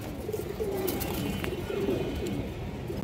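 Giribaj pigeons coo softly nearby in repeated low, throaty phrases, with faint background noise around them.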